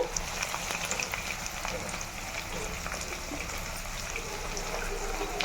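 Spices, turmeric and ginger-garlic paste frying in hot oil for a goat tripe curry, giving a steady soft sizzle throughout with light crackle, close by and fairly quiet.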